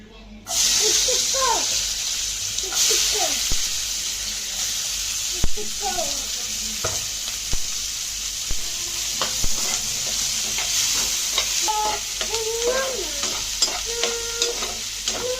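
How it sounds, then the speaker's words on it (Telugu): Onion pieces fry in hot oil in a pan for a masala egg fry, a steady bright sizzle with occasional stirring clatter, while someone talks over the cooking close by. "ఉల్లిపాయ ముక్కలు కొంచెం ఇలా వేగాక"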